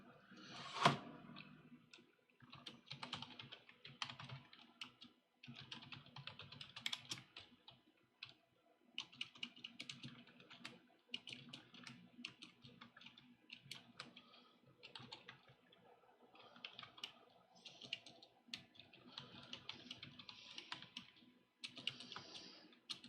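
Steady typing on a computer keyboard, fairly faint and close, with irregular bursts of clicking keys and brief pauses, no talking.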